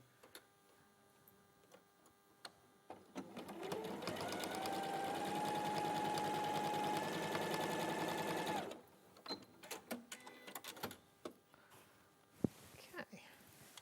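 A sewing machine stitches quilt pieces in a steady whirring burst of about five seconds, followed by quieter clicks and handling noises nearby.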